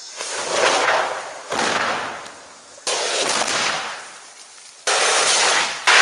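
Four sharp thermite cutter charge blasts go off one after another, each a sudden pop followed by a hissing, fizzing roar that fades before the next.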